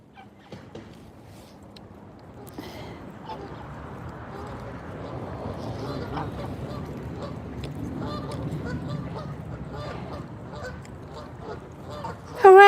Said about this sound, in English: Oh, it's the geese. It's the geese down there.